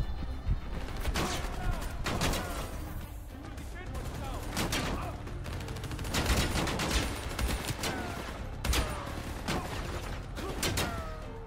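Sustained automatic gunfire in the shooter Call of Duty Black Ops III, loud and dense bursts of rapid shots with mechanical clatter, continuing through the whole stretch.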